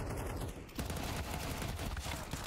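Rapid gunfire crackles in a Counter-Strike esports match between Furia and ATOX at the ESL Pro League, a dense continuous burst of shots, very quiet overall and heard without talk.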